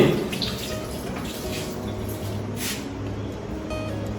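Tap water running over hands being washed, a continuous close splashing rush with small shifts in flow and a few brighter spatters, no talking.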